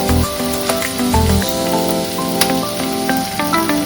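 Vegetables for kadhai paneer sautéing in a hot pan, a continuous loud sizzle with occasional stirring scrapes and ticks, close and alone.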